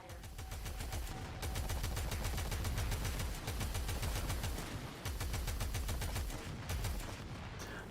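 Rapid automatic gunfire in the Warframe video game, loud sustained bursts of evenly spaced shots with two brief pauses, no talking.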